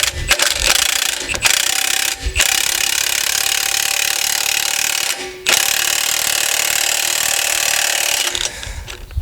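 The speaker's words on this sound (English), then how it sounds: "get the end of the impact wrench and get it compressed" A pneumatic impact wrench hammers steadily to compress a front drop-kit part on a 2017 Ram 1500 4x4 pickup. It runs as loud, continuous bursts with a few brief pauses between them.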